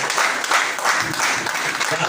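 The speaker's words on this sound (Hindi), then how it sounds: "तो आपकी जोरदार तालियां बजेगी।" Audience at a training event applauds in steady, fairly loud clapping that swells and dips for a couple of seconds, mixed with a voice speaking over it.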